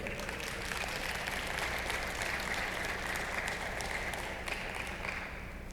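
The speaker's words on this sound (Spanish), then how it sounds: "Un aplauso al Señor" Congregation in a Spanish-language church service claps steadily throughout, a dense, even wash of applause without pause or speech.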